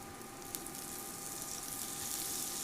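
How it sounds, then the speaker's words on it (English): Butter sizzles in a cast iron skillet on an induction burner, a steady, faint, even hiss of frying that holds on without any talk. "Let's go ahead and throw the butter in now"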